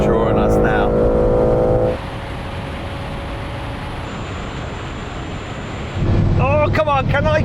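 Onboard a tuned race among a 750hp Nissan Skyline R34 GT-R, a 735hp Mustang and a BMW M3, loud engine roar and wind rush build, ease into steadier drone, then swell again near the end with a rising shift.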